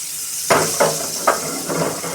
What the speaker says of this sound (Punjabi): ਬਟਰ ਨੂੰ ਆਪਾਂ ਕਰਾਂਗੇ ਜੀ ਮੈਲਟ